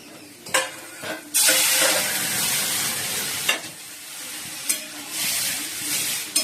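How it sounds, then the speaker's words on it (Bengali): Dal poured into a pan of onions fried until reddish-brown sets off a sudden loud sizzle, which keeps hissing steadily with a few sharp clinks and stirring scrapes, no voices. "পেঁয়াজগুলো লাল লাল করে ভেজে নিয়েছি। এবার ডালটা দিয়ে দেবো।"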